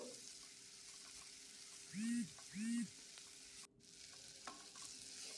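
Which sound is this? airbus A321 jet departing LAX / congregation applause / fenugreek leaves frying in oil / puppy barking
fenugreek leaves frying in oil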